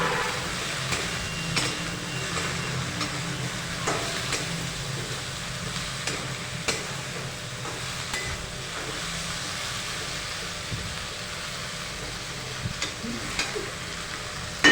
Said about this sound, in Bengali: এবার গুঁড়ো মশলাটা ভেন্ডির সাথে ভালো করে মিশিয়ে নিচ্ছে